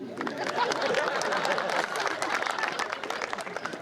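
An audience at a poetry gathering in Bilaigarh applauds, dense clapping mixed with crowd chatter and murmuring voices that carries on for several seconds.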